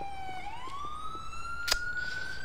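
A video game ambulance siren wails, rising steadily in pitch, loud and close, during a snowy police patrol, with a brief sharp burst partway through and constant background noise.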